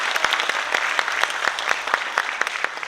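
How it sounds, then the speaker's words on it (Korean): Congratulatory audience applause at a lecture hall event during a flower presentation, a dense, steady clapping from many hands filling the room with occasional sharp individual claps. "여러분 다시 한번 큰 축하의 박수 주시기 바랍니다"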